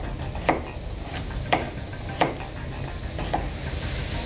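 Knife chops through an onion on a cutting board, four distinct close taps spaced roughly a second apart over quiet kitchen background noise.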